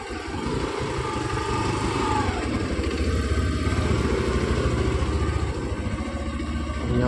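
A motorcycle engine idles steadily and close by at a bike parking spot near a shopping area, giving a continuous low rumble with no voices.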